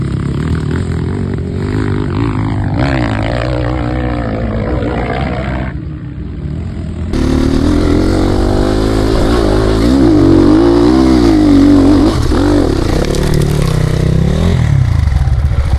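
A Chinese motorcycle at a competition revs hard and struggles to pull, its loud roaring engine surging and wavering in pitch with a clattering edge, close and continuous throughout.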